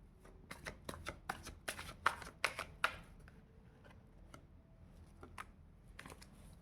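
Tarot cards are shuffled close by in quick, crisp riffles, a run of sharp flutters and snaps that peaks midway, then scattered softer card taps in a quiet room.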